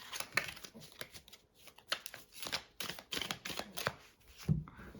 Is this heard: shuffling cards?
yes